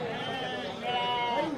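Female goats bleat at a livestock sale, several wavering, nasal calls overlapping one another close by, with a person talking over the animals.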